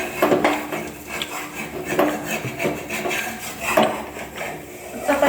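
Chapati being cooked and handled on a tawa pan, with repeated metallic clinks and scraping taps at an irregular rhythm, close and fairly loud.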